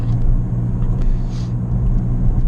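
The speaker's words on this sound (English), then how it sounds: "I mean, there is a little bit of road noise" Steady low rumble of road noise inside a moving Ford Fiesta Titanium, a continuous muffled drone with no talking.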